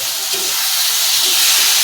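Marinated chicken frying in a pan gives a steady, fairly loud hiss and sizzle that builds slightly over the short span, with no voice present.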